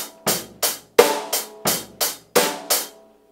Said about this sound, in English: So I could play a simple rock groove like this with no accented or unaccented notes and just keep all of them the same,